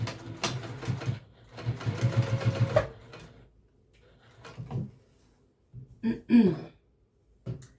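Sewing machine basting ties onto a vintage-style apron, in short bursts of rapid stitching, one longer run and several brief stops and starts, with quiet handling sounds between them.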